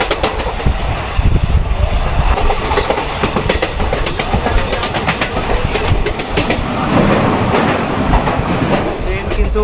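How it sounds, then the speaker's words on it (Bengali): The Maa Tara Express, running from Sealdah towards Naihati, rumbles loudly along the rails with a steady clickety-clack of wheels over joints and a continuous carriage rattle from inside the train. "শিয়ালদা থেকে এবার নৈহাটির দিকে ট্রেনটা ছুটছে"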